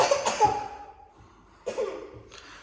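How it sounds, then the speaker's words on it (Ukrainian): A few harsh, wet coughs from a young child nearby in a hospital, one burst at the start and two more shortly after. "От з таким кашлем ми сюди і потрапили."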